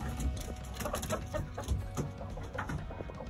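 Chickens clucking and murmuring softly at close range inside a coop at bedtime, several birds overlapping in irregular bursts with no talking.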